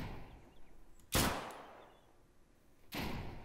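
Two sharp rifle shots ring out in the video game Deadside, about two seconds apart. Each is loud and sudden, with a short decaying tail, over a quiet background.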